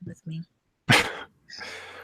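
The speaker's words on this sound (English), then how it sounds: "Sorry, I have my dog with me." A pit bull gives a few sharp barks close by indoors, short loud bursts separated by pauses, mixed with people chatting.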